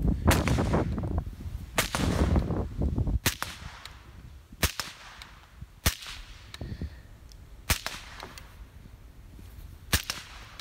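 Suppressed rifle shots through a SilencerCo Specwar suppressor at an outdoor range with a berm, cracking in a series of about a dozen sharp, irregularly spaced reports with short decays, moderately loud and with no talking.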